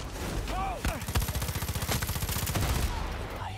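Sustained assault rifle fire in the video game Far Cry 6, a rapid steady stream of close shots lasting several seconds over game ambience.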